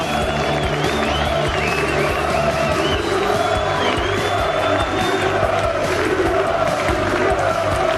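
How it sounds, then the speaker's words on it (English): A large crowd at the Mosconi Cup pool match cheers, whoops and applauds in a sustained, dense roar with shrill whistles and shouts rising above it. "Now the crowd."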